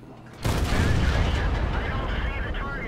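An STA tank gun in World of Tanks fires with a sudden loud boom, followed by a sustained rumbling roar of battle; someone talks over it.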